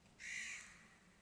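A single faint crow caw, heard from a distance, sounds briefly once against quiet outdoor background.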